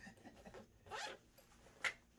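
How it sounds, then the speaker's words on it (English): Zippers on a fishing tackle survival bag are pulled open in two quick, close rasping strokes with a pause between, the second one sharper and louder, against a quiet background. "I just got zippers all over this thing."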